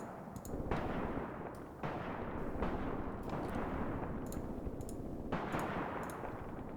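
Continuous artillery and small-arms fire in a Graviteam Tactics battle: repeated heavy thuds and crackling shots with a dense, rumbling backdrop throughout.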